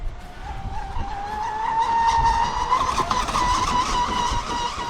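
A ProBoat Sonic Wake 36 V3 RC speed boat runs at full throttle with a steady, loud, high-pitched motor whine that climbs and wavers slightly, holding continuously throughout without pauses or talk.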